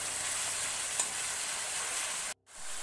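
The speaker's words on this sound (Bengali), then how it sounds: "এবং রসুন বাটা এটি দিয়ে দেব এবং এটিকে ভালো করে ফ্রাই করব।" Soybean chunks fry with garlic paste in a pan, giving a steady close sizzle and hiss that runs unbroken, then cuts out briefly near the end before picking up again.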